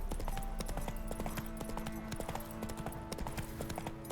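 The horse Roach gallops in The Witcher 3, its hooves clip-clopping in a steady rhythm over a continuous game soundtrack, close and moderately loud.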